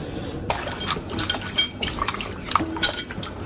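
Several garlic cloves are washed in water in a home kitchen, giving a scattered series of light splashes, clinks and knocks against a glass or metal bowl, close and fairly quiet.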